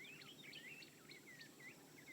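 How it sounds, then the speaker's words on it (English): A thrush sings a run of varied, fluty whistled phrases at a steady pace, fairly close, over a soft bed of insect hum. "African thrush singing away."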